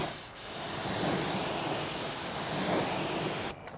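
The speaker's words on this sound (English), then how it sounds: "I'll spray down the face of the wheel just so I can knock off any loose grime debris." A steady, close hiss of water sprayed onto the face of a car wheel runs for about three seconds, then cuts off abruptly.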